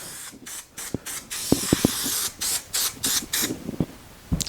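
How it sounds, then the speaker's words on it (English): Aerosol glue sprayed in repeated short hissing bursts onto a sheet of 1-inch blue foam for an armchair seat being reupholstered, with a few small clicks and taps between sprays, close and fairly loud. "So I'm going to glue this down."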